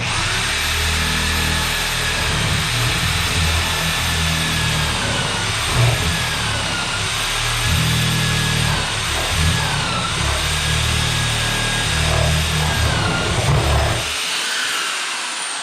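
A power drill bores a hole during electrical prep on an off-grid tiny house cabin, a loud continuous whine with pitch wavering under load for about fourteen seconds before it stops abruptly.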